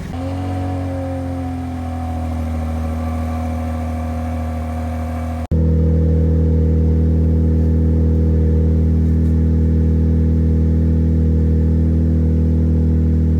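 A RAM 1500 Hurricane pickup engine with a Flowmaster Signature Series catback exhaust idles with a deep, throaty rumble, dropping briefly then settling into a steady, loud, close-up drone around 83 decibels.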